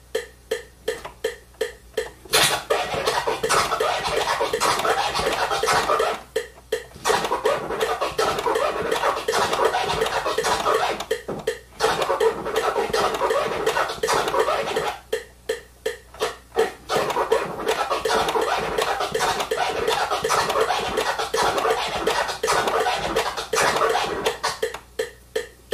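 Triplet delete scratches on a DJ turntable come as fast, rhythmic bursts of scratchy record noise in long runs, broken by brief pauses, close and fairly loud, with no talk.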